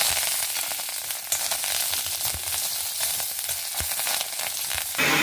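Pepper and curry leaves sputter and sizzle loudly in hot homemade ghee, a close, crackling fry with a few sharp pops and stirring.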